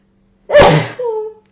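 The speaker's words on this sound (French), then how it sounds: "Je vais éternuer." A single sharp sneeze bursts out, close and loud, with a brief voiced trailing tail after the explosive burst, then silence.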